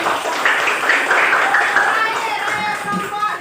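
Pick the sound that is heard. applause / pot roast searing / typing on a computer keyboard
applause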